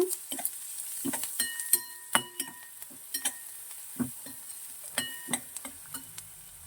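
Onions browning with a pinch of turmeric fry in a pan for tomato gojju, a soft sizzle broken by frequent sharp clinks and scrapes of a spoon stirring against the metal, close and steady, with no talking.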